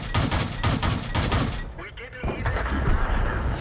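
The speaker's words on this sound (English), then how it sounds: "mine doesn't have a cannon. It has sort of an auto cannon thing. So it fires kind of like automatic" Rapid automatic bursts of tank autocannon fire in World of Tanks, loud and dense with a short break in the middle, mixed with game battle noise and someone talking.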